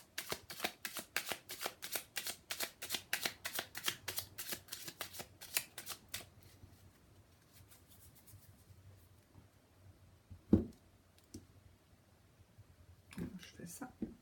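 A deck of cards being shuffled, a fast run of crisp riffling flicks for about six seconds, then quiet with a few scattered card taps and a voice talking near the end.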